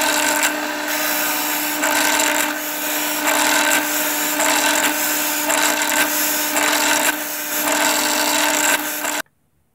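A pen blank is trimmed down to its brass tube in a loud, continuous spinning, grinding cut lasting about nine seconds, then it stops abruptly. No voices are heard.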